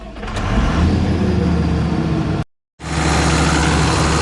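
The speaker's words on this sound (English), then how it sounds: "I'm going to start the engine and let it run for a few and see how it does" A John Deere 690ELC excavator's diesel engine runs steadily at a loud, close idle with a low rumble, cuts out briefly, then resumes at the same even level, after an exhaust replacement.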